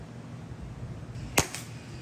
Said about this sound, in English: Get ready for some insane catching and shooting.